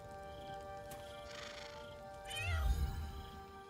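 A cat meows in the video game Baldur's Gate 3, a drawn-out, rising call over steady background game music, fairly close and clear.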